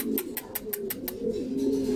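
A pair of Sifyanos pigeons coo in a steady low warble, close and clear, with a quick series of sharp tapping clicks partway through and no talking.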